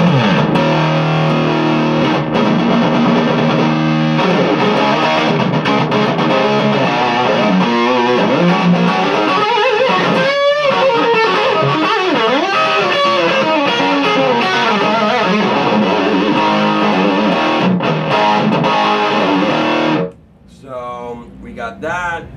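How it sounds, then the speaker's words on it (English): Loud, saturated high-gain electric guitar distortion through an Egnater Tweaker amp head, playing continuously with dense chords and riffs, cutting out abruptly near the end before a brief resumption. "you get back to the full-fledged distortion sounds, and it's loud"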